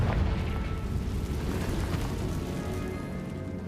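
A Confringo blasting spell goes off in a video game as a loud, dense explosive roar that stays broad and sustained for a few seconds before easing slightly. No one speaks over it.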